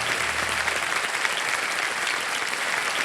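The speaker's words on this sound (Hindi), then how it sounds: "एक बार फिर जोरदार तालियां बजाएं इनके लिए।" Studio audience applauding a contestant on the KBC game show, a dense steady clapping that stays loud and even through the short stretch with no voices over it.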